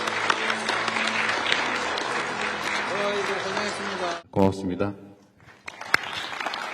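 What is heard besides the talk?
journalists applauding at press conference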